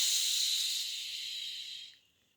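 A voice makes a long, breathy shushing hiss imitating water pouring from a tap, steady for about two seconds before trailing off.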